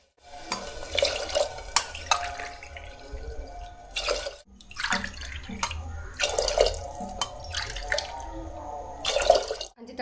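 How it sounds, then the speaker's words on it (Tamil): Water poured into a cooking pot while making temple-style tamarind rice, splashing and trickling in several bursts with brief pauses, close and fairly loud over a low background hum. "இந்த டைமில் வந்து நம்ம 2 டம்ளர் அரிசிக்கு 5 டம்ளர் தண்ணி ஊற்ற போகிறோங்க"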